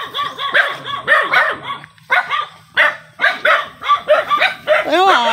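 Several dogs bark and yip near and loud in an overlapping, irregular chorus around a modest shanty home, the barks coming in quick bursts with a brief whine.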